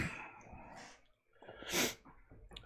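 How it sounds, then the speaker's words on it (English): A single loud, close sneeze bursts out after a short run of heavy breathing and snorting as it builds, with a brief quiet just before it. "Oh, I gotta sneeze."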